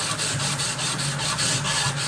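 Close, rhythmic rasp of hand sanding a hardened steel knife blade, quick back-and-forth strokes repeating a few times per second without pause or talk.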